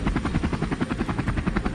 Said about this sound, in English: The pilot immediately dropped in altitude, bringing the chopper low over the ground